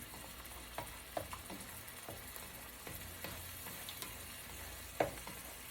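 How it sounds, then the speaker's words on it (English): Already-scrambled eggs fry in a pan for shrimp fried rice, giving a steady soft sizzle with a few light scraping and stirring clicks, close and moderately quiet, with no talking. "Now those are already scrambled, so we're just going to fry this up."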